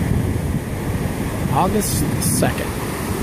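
Ocean surf rolls onto the beach at Ocean City, Maryland, on a quiet evening, a steady broad wash mixed with wind buffeting the microphone, as a voice briefly speaks.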